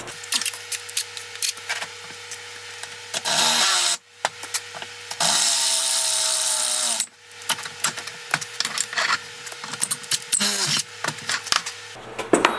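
A drill bores through a Ford 9-inch rear axle housing during a cambered road-course build, running in steady bursts with pauses and rustling handling between runs, one long continuous grind in the middle.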